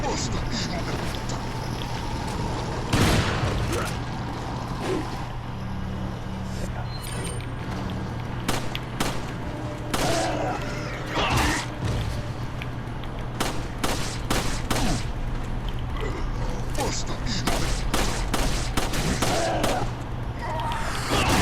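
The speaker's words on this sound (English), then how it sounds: "the easiest way to take them down is just to infinitely stun them probably with the shotgun" Shotgun fire and combat in the video game Resident Evil 4, with repeated loud blasts scattered throughout amid game noise and someone talking over the action.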